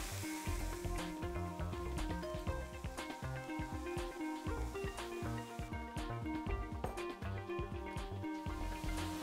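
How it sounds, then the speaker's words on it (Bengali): Soy sauce poured into a hot pan while cooking a brain kebab hisses in a continuous, moderately loud sizzle that holds steady under a faint tonal background, with no talking. "আধা কাপ পরিমাণ সয়া সস দিচ্ছি"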